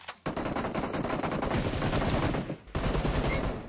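Sustained automatic gunfire from the mobile battle royale game PUBG Mobile, loud and continuous rapid bursts with a brief break near the end before firing resumes; no talking.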